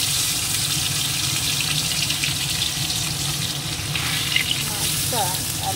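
A whole tilapia fish hits hot oil in a pan and sizzles steadily, a dense, close frying hiss lasting several seconds with a faint clink near the end.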